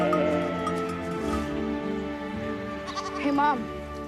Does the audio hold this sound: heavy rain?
no